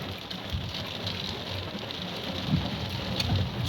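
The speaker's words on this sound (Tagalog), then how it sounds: "bumagsak na yung ulan sabay kulog" Steady rain falls on a surface outdoors near a Toyota Yaris, a continuous dense patter with a low rumble underneath that may be distant thunder, holding at an even moderate level with no voices.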